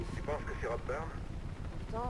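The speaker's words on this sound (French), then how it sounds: "on dirait bien que c'est un hélicoptère de police" A police helicopter in Mirror's Edge produces a steady low rotor drone throughout, constant and fairly loud, with someone talking over it in French.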